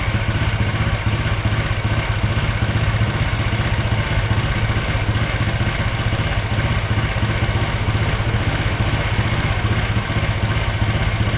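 A Honda Vario scooter with its Juken 5+ ignition timing tuned for a rumble idle runs with a loud, steady, lumpy idle. The rhythmic thumping is close and carries on without a break, with no talking.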